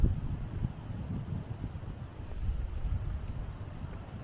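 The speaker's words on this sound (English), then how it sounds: "A little bit of a wind out here this morning." Wind blowing beside the Gorge Waterway in a park on Vancouver Island, a continuous low rumble of gusts buffeting the microphone, rising and falling slightly, with no one talking.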